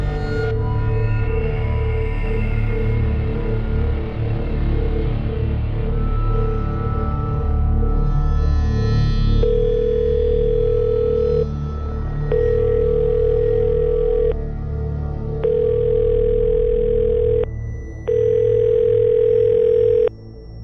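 A telephone rings unanswered: after a stretch of steady background sound, a ringing tone repeats in five evenly spaced pulses, clear and loud.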